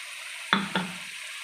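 Cashew paste and yogurt hit hot oil in a pan for a fish curry, giving two quick, close sizzling splashes a moment apart before settling into a soft, steady frying hiss.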